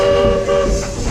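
The Walt Disney World Railroad train pulls into Fantasyland Station, giving a loud, steady, close-up tonal rumble with a whistle-like hum that lasts the whole brief moment.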